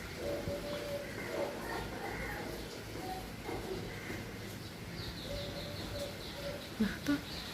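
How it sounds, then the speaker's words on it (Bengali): Faint birds call outdoors on a dark, rainy late afternoon. A few soft coos and a short burst of thin chirps rise over a quiet, hissy background. "পাখির আওয়াজ"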